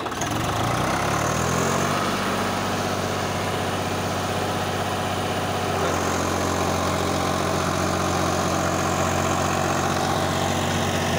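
A Swaraj 733 FE 35 hp tractor with a 7 ft rotavator runs at 1800 RPM. Its engine rises briefly at the start, then holds a loud, steady, deep drone throughout.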